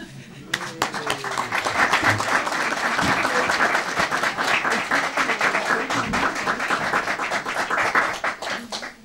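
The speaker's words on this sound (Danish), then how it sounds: "Jeg synes, vi skal klappe af det gode resultat" Dense, sustained applause from an audience in an assembly, clapping to honour a good result, steady and loud for about nine seconds with a voice briefly audible beneath it early on.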